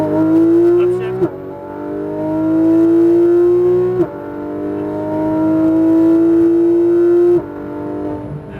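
Porsche GT3 RS engine pulls hard on a racetrack, its pitch climbing steadily through three gears with sharp breaks at each upshift, loud and close inside the cabin.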